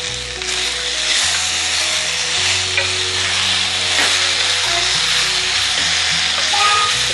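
Tamarind and tomato fry and get stirred in a hot pan, giving a loud, steady sizzle with scraping stirs throughout and no talking.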